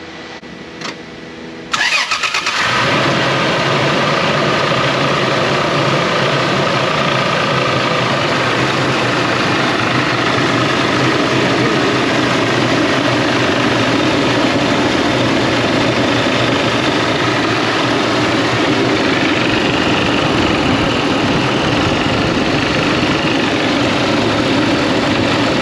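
Toyota Tacoma engine cranks briefly and catches, then settles into a steady, loud idle with cooling-fan roar running continuously close to the microphone.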